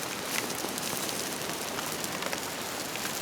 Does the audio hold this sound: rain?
yes